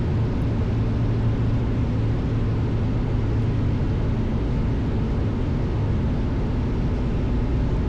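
Steady, loud drone of a small Decathlon airplane's engine in flight during spin training, constant and unbroken with no voices.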